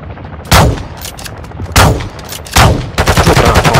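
Loud Call of Duty gunfire: four sharp, heavy shot bursts at roughly one-second spacing, the last trailing into a rapid string of close shots.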